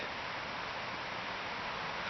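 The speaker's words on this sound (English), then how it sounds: "You can hear a creek running by in the background." Steady broadband rush of a creek running through an off-grid woodland setting, continuous and even with no distinct events, heard alone as a soft constant background wash.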